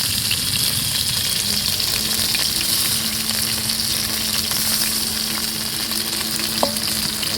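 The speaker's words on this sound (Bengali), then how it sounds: "বেগুনগুলো দিয়ে আর একটু ভেজে নেবো" Eggplant pieces fry in oil with potato and drumstick pieces for shukto, a loud continuous close-up sizzle with faint stirring and one brief clink near the end, no talk.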